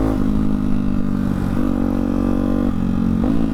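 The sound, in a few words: Hyper 698 motorcycle with S1 exhaust running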